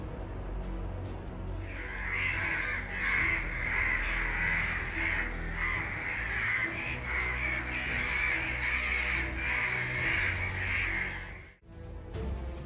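A flock of crows mobbing an owl caws steadily and harshly for several seconds, the calls overlapping and continuous, fairly close, before stopping abruptly near the end.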